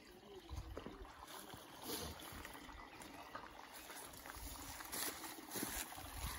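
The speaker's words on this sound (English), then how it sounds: "So as I get this water into my jug, and just do a quick rinse." River water running into a jug at the source of a stream, a steady gurgling trickle close by with splashes and rinsing, continuous throughout and fairly quiet.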